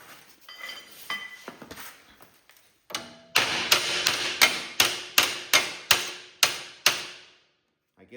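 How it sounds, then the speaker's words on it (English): Hammer striking a roll pin on a Cub Cadet 1772 Super Diesel rockshaft: a few light taps first, then about ten hard metallic blows in a steady rhythm, loud and close, ending in a brief quiet. "I'm going to take a hammer and I'm going to take that roll pin and it's going to go up through"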